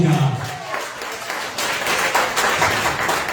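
A church congregation breaks into applause during a sermon, steady clapping of moderate loudness that fills the room for several seconds.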